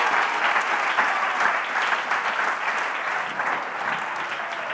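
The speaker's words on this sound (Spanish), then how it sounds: "Un aplauso al Señor." A church congregation breaks into sustained applause during a sermon, a dense, steady wash of many hands clapping at fairly even loudness throughout.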